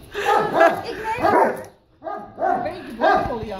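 A female dog barks and whimpers in short bursts close to the microphone, with a brief pause midway, while people talk over it.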